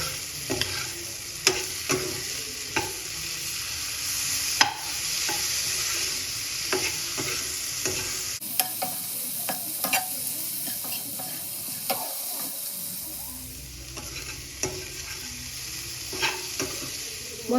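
A spoon stirs chicken gizzards with meat masala and a ginger, garlic and red chili paste in a hot pan, scraping in a steady rhythm of close clicks and clanks over constant sizzling, with no voices.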